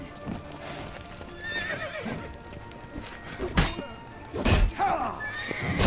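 Roach the horse in The Witcher 3 video game, with clopping hooves and a whinny over game background sounds, broken by a couple of loud thumping impacts near the end.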